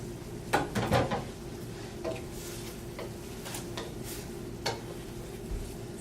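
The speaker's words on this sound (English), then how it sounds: "Hold on, I need to stir this one over here." A spoon stirs a cumin dish in a pot on the stove while preparing an Ayurvedic summer recipe, a few light metallic clinks and scrapes over a low steady kitchen hum, quiet and close.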